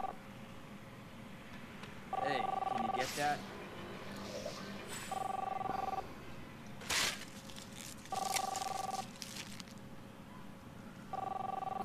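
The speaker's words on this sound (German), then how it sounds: "Chris, answer the phone, please." Telephone ringing in the Captain Spirit video game: repeated electronic ring bursts at a steady rhythm, four rings with pauses between, mixed with game sounds and a voice talking over them.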